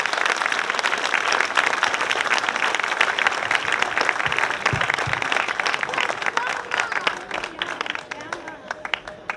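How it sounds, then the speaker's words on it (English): Audience applause fills a regalia showcase at the SWAIA Indian Market 2025 after a Navajo warrior outfit is presented: dense, steady clapping from a crowd, loud and sustained throughout, easing slightly near the end. "Big round of applause if you would."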